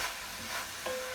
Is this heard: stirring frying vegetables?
yes